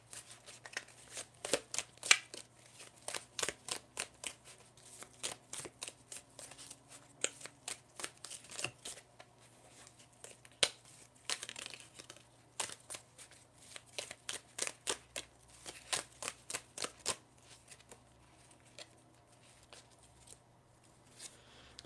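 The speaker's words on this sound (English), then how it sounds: "I'm going to shuffle to see what else comes up for you." Tarot cards are shuffled in a steady run of soft, quick riffling bursts, close and fairly quiet, with no talking over them.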